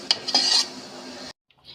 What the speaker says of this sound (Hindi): अब हमने चूल्हा बंद कर दिया है। इसको हम दूसरे बर्तन में निकाल लेंगे।